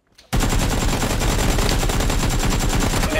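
Sudden continuous burst of rapid automatic gunfire in PUBG: Battlegrounds on Xbox Series X after a brief quiet moment, loud and relentless, shots blurring into a dense rattling stream.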